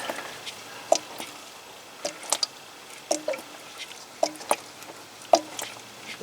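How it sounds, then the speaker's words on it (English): Oil draining from the pan of a Kubota B2601 compact tractor with the filler cap left on, giving irregular gurgling glugs and drips, each burst short and close, spaced a second or so apart. "I didn't take the oil cap off, so that's why it's glugging."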